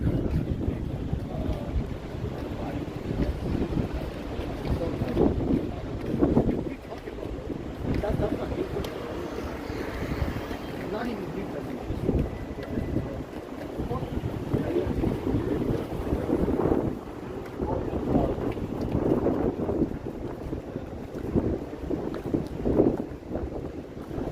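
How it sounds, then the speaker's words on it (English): Strong wind buffets the microphone in steady gusts on a downtown Toronto street on a Thursday evening, a constant roaring rumble with surging peaks and a faint voice underneath. "Yeah, it's dang windy."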